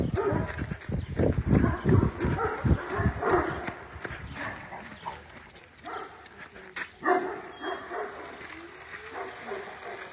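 Several off-leash dogs bark in an excited cluster at first, loud and close, then the barking thins out into scattered yips with some background commotion.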